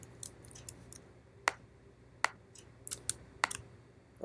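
Keyboard shortcut keystrokes tapped on a computer while laying out a column grid, a scattering of sharp isolated clicks and short clustered taps, close and fairly quiet with no voice.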